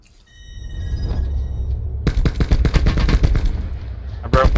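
Rapid automatic gunfire crackles in a Call of Duty Blackout match, starting after a quiet stretch with a faint electronic tone, then dense bursts of shots rattle close and loud, joined by a sharper closer volley at the end.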